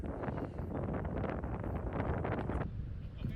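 Wind blows across an outdoor disc golf course, a steady broad rushing gust buffeting the microphone for a few seconds before easing off suddenly near the end.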